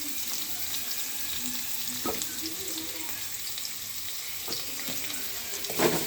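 Chopped onions frying in groundnut oil in a pan on a stove for mint chutney, a steady close sizzle with occasional soft stirring clinks and scrapes, no voices.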